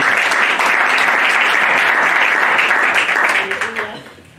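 A church seminar audience bursts into loud, dense applause, close and sustained before fading out over the final second.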